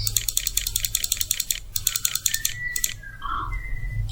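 Rapid keystrokes clatter on a computer keyboard while editing a document in Microsoft Word, a dense run of clicks that pauses briefly before a few more taps, close and fairly loud.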